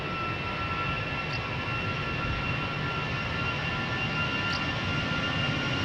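Aer Lingus flight 603 to Dublin taking off from Amsterdam Schiphol Airport, a steady, loud jet engine roar that holds constant throughout with no voices.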